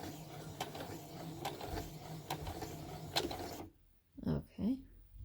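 A sewing machine runs back and forth, back-stitching the end of a tulle ruffle: a steady mechanical whir with rhythmic ticks for several seconds, then it stops and a voice speaks briefly.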